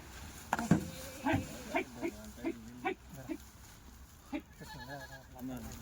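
Kathiawari goats bleating in a loose series of short, wavering calls, some near and some farther off, spaced irregularly over a low background murmur with faint voices.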